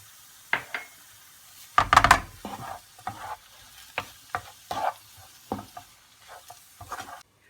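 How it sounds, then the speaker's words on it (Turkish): Eggs whisked in a bowl for an oat and zucchini omelette, with a burst of rapid clinking and then a run of separate taps spaced about every half second, close and fairly loud, without talk. "Yumurtalarımı çırpıyorum arkadaşlar."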